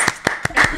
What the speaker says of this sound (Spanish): Un fuerte aplauso, aplauso. por favor.